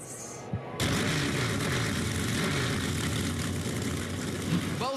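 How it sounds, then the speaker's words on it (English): NASCAR Xfinity Series race car engines firing up together at Pocono Raceway, a sudden loud burst after a brief quiet moment, then a dense, sustained rumbling roar of many engines idling and revving close by. "Drivers, start your engines."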